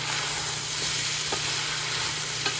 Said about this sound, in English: just going to saute it until the veg just starts releasing some of its flavor